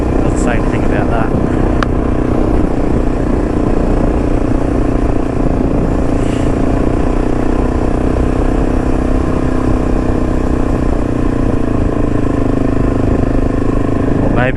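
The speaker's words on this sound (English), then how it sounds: "Recreational motorbike riding." A motorcycle engine drones steadily and loudly, with a constant rumble and wind noise as if recorded while riding.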